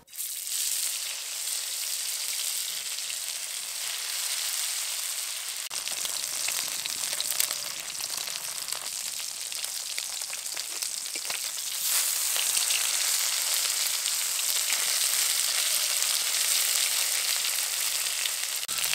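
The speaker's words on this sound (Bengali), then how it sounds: "আমি কিন্তু অল্প তেলেই মাছগুলোকে ভেজে নিচ্ছি ভালো করে" Fish sizzles and spatters in hot mustard oil in a kadai for a long stretch, a constant close crackling hiss that swells louder partway through.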